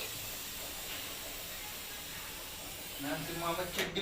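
A pressure cooker of lentils for puran poli, on a gas stove in a home kitchen, lets out a soft, steady hiss of steam. Faint voices and clatter rise near the end.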